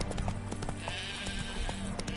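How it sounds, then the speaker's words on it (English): Horse hooves clip-clop in The Witcher 3 as a steady rhythmic patter of hoofbeats on a path, moderately close, under a constant ambient game background. "Spooking my horse."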